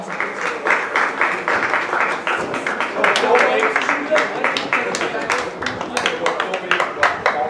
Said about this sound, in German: einen Applaus für unseren Tormann